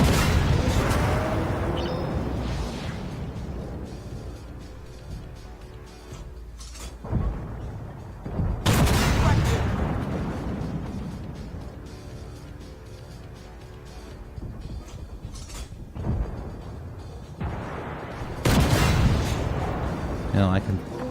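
Tank cannon fire in Armored Warfare: three loud booming shots, several seconds apart, each with a rumbling tail, over continuous engine and battle ambience, with some talking in between.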